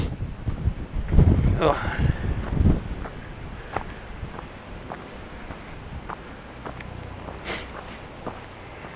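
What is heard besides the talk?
strong wind blowing on a hill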